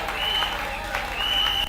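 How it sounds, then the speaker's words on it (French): Applause from a church audience fills the room, steady and dense for under two seconds, with a sustained tone and some voices mixed in. "Applaudissez très fort pour les Seigneurs."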